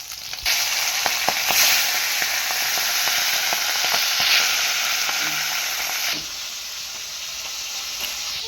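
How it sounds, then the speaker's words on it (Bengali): Hilsa fish sizzles steadily in hot oil, a dense continuous crackle with scattered sharp pops, close and fairly loud, easing slightly toward the end. "আমাদের এখন মাছ ভাজা হচ্ছে।"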